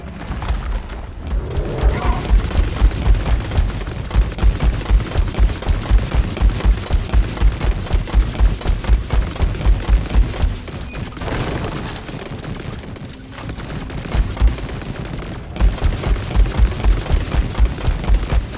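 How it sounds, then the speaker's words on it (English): Plasma burster missiles fire at a dreadnought in a video game, a loud, dense rapid-fire barrage of booming shots that pauses briefly and resumes, with no talking. "I have currently plasma burster missiles built for full damage"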